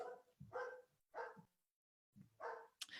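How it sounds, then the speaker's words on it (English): A pet dog barks in a home after the doorbell rings, giving a few short, close barks in separate bursts with brief pauses between them. "sorry, my doorbell went off, my dog's upset"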